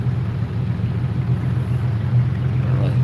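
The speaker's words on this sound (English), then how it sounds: "Fishing boat coming our way." A steady low engine drone from an approaching fishing boat, droning continuously at moderate loudness with a faint watery hiss above it.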